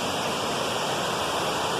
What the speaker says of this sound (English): this nice, beautiful waterfall here